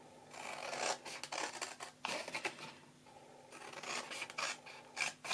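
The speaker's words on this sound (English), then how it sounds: "Now I'm going to cut up those score lines as far as the first score line." Scissors cut paper along score lines in several separate runs of close, crisp rasping snips, with short pauses between them.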